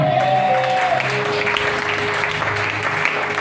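An audience at a French-language religious gathering applauds in a dense, steady patter of clapping that carries on throughout, with a faint voice briefly audible early on.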